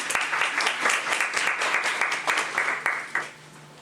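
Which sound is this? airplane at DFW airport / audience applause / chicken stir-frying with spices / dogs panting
audience applause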